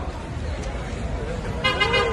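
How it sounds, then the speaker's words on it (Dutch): Car horns toot in busy Turkish street traffic, short honks stacking up toward the end over a background of chatter and road noise. "Het is wel heel fijn dat ze allemaal toeteren."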